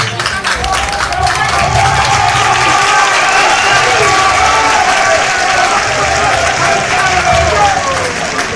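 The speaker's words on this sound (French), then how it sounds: "Une fois encore, applaudissez-le." Loud, continuous applause from a crowd at a corporate celebration in Benin honoring an employee, many hands clapping with some cheering mixed in, sustained evenly throughout.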